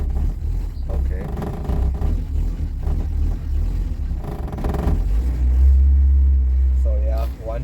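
A VW Golf Mk1 engine holds high revs just after a cold start without a choke, a loud continuous rumble that swells toward the end, with people talking over it.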